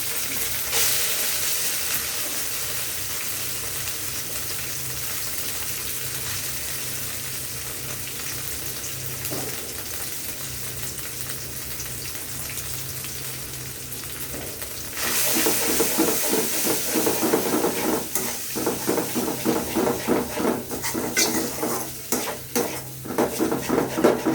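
Masala spice paste sizzles and hisses in a hot pan as it is fried and stirred for katla fish kalia, with a steady fry and louder scraping stirs toward the end.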